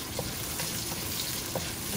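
Chopped onion and garlic sizzle in a hot pan with a steady, close frying hiss, broken now and then by brief stirring scrapes; no one talks.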